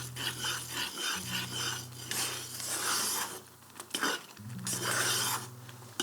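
Lemon zest grated off a whole lemon on a grater, irregular close rasping scrapes in short bursts over a low steady hum, with no talking.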